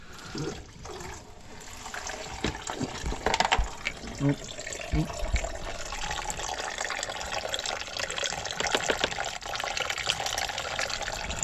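Fluid trickling and dripping steadily from a Toyota Corolla Hybrid being drained during a 100K mile service, a continuous watery flow heard close by with some faint background noise.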